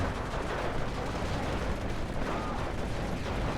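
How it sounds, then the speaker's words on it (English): Machine gun fire in a strategy video game battle on the Haroshaje map, a dense, continuous clatter of gunfire and distant blasts that holds steady at close range without pause. "I think was that shot by machine guns"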